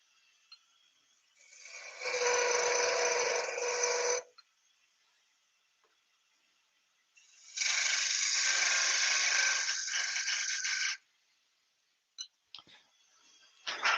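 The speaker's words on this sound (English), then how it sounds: "Just a little side scrape with the edge of the parting tool" A parting tool edge scrapes the side of a wooden fruit spinning on a lathe, heard as two loud, sustained bursts of several seconds each, separated by quiet, followed by a few brief light clicks and knocks.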